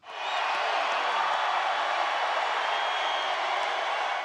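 A dense arena crowd at a Trump campaign rally in Tulsa, cheering and whooping in a steady, loud roar that fills the whole stretch.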